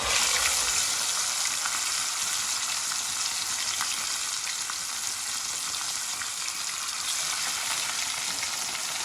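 Pieces of masala-coated fish fry in hot oil with a steady, dense sizzle that carries on unbroken, close and fairly loud, with no talking over it.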